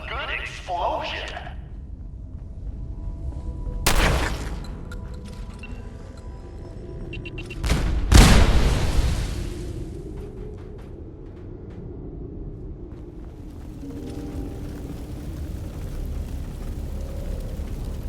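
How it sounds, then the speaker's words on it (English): An explosion in the video game Fallout 4, Nuka-World DLC: a sharp blast early, then a bigger booming detonation with a rumbling tail, followed by a low, steady game ambience. "Who doesn't love a good explosion?"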